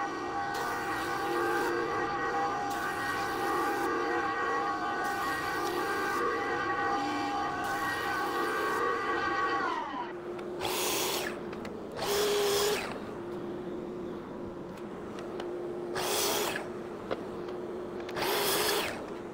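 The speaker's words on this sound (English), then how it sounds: "I'm going to go ahead and run this through the planer first as one long length." A planer feeds a long wooden board, giving a loud steady whine with strong tonal hum for about ten seconds, then it drops to a lower idle drone broken by several short bursts of cutting noise.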